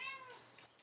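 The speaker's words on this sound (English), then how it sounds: "if you hear a cat calling the kittens in the background and then the kittens all scrambling" A mother cat calls her kittens with one short, quiet, falling meow, heard alone at a distance.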